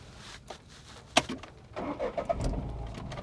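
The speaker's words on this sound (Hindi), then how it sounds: "गाड़ी स्टार्ट कीजिए" A car engine cranks and catches during a beginner's driving lesson with the clutch pressed, a sharp click followed by a rising, rumbling idle that grows steadily louder.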